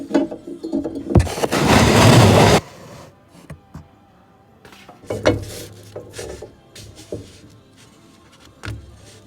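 Foam being cut by hand for a bird house, a loud rasping sawing stroke lasting about a second, then quieter scraping and rustling handling noises.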